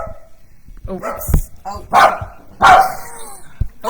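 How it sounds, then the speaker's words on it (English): Several dogs bark and yip excitedly in a home, loud and close in irregular bursts, while a person briefly exclaims over them. "now we have dogs going crazy"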